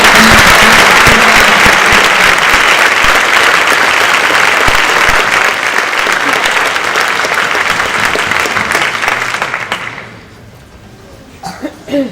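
A school academic excellence awards ceremony audience applauds loudly and steadily for about ten seconds, a dense wash of many hands clapping that fades out, leaving a few scattered claps and quiet.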